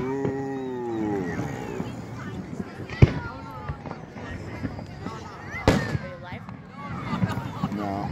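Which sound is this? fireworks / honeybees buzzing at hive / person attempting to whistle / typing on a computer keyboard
fireworks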